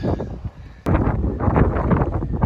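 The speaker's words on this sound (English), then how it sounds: "It's still really, really windy up here." Strong wind on Yes Tor buffets the microphone, a steady roaring rumble with a brief lull before gusting back hard and continuing loudly.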